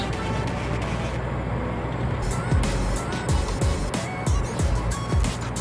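A 2005 Toyota Innova's engine hums and swells as the accelerator is pressed during a test drive in fifth gear at about 60, a steady cabin drone with a few brief thumps from the road.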